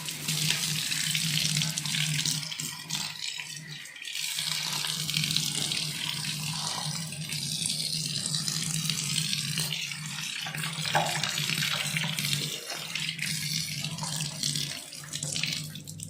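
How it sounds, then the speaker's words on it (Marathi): Water runs steadily down a freshly cleaned kitchen sink drain, a continuous close rushing stream with no talk over it. "आणि हे बघा, आता फुल पाणी जात."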